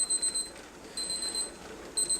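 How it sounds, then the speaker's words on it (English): A kitchen timer beeps in three short bursts of quick high electronic pips, fairly close and clear, with quiet gaps between, during pressure canning of deer meat. "There's the timer."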